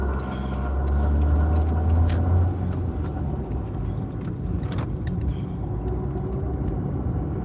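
An old car engine running rough rumbles steadily with an uneven low drone, surging briefly early on, along with faint rattles and clicks.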